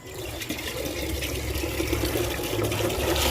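Water pours steadily from a hose or can onto string bean (sitaw) plants in a home garden, a continuous splashing gush close by with no talking.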